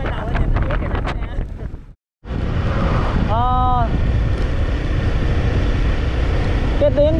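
Sea waves and strong wind along a coastal road between Saigon and Mui Ne, a constant roar of wind and surf with a brief dropout, a short rising whistle-like tone, and scattered voices underneath.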